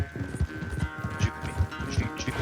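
A horse gallops in the video game Red Dead Redemption 2, producing quick, rhythmic hoof thuds in a rolling beat close up, with faint background game sounds underneath.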